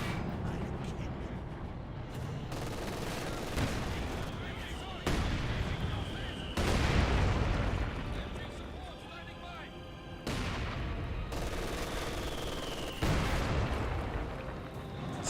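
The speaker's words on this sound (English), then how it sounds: "Mortars shelling the MG quite a bit." Mortar shelling in the WWII strategy game Company of Heroes 2, striking a machine-gun position: repeated heavy booming impacts at intervals of a few seconds, with a commentator talking over the battle.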